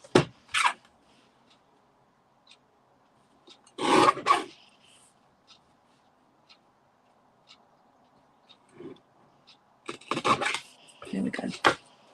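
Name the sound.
trimming a piece of card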